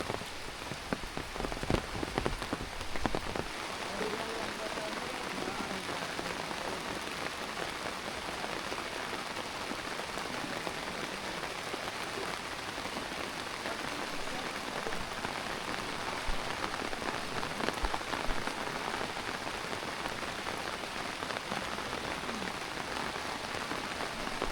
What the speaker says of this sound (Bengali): ভালো বৃষ্টি হইতেছে রাত থেকে।